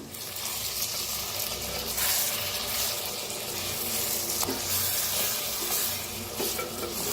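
Stuffed tomatoes cooking over low heat in a pan while being stirred, a steady soft sizzle with scraping and occasional light clinks of the spatula against the pan.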